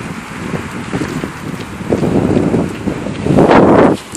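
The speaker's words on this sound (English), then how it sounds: "Here comes the winds gusting." Strong wind gusts buffet outdoors on a freezing day during a cold front, rumbling against the microphone and swelling to a loud roar near the end before easing off, with no talking.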